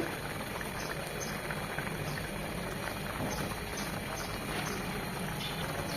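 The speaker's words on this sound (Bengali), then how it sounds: "আমি আরেকটু এখন আর ঢাকবো না, 2-3 মিনিট এভাবেই রেখে ঝোলটা টানিয়ে নেব।" Fish curry broth with sponge gourd and stinging catfish simmering uncovered in a pot, giving a steady, continuous bubbling hiss that stays even and fairly close for the whole stretch, with no talk.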